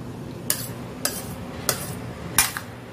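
Four sharp metallic scrapes of a spoon against a pot of vegetable pulao rice, spaced about half a second apart, over a low steady background hum.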